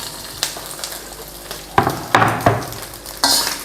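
Beef fat stir-fried in hot oil in a wok, a close steady sizzle broken by several sharp scraping stirs of a utensil against the pan.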